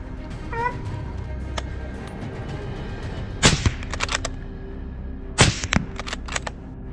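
Two loud, sharp gunshots ring out at charging wild boar on a French grape farm, each followed by brief crackling tails, after an earlier faint cat-like meow over low outdoor background noise.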